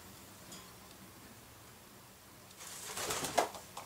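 Caged domestic pigeons coo softly and faintly at first, then a louder burst of rustling and fluttering rises near the end, with a sharp peak just before the close.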